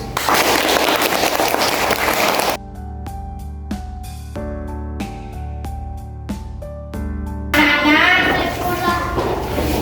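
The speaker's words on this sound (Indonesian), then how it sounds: "Sekarang kita kasih tepuk tangan untuk kelompok yang sudah bagus." Primary school pupils in a classroom applaud a student group with a dense burst of clapping. A chiming tune follows, then noisy clapping returns with voices mixed in.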